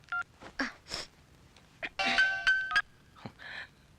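Phone in a comedy movie scene, short electronic tones and a brief ring heard amid scattered clicks and noises, fairly close and moderately loud.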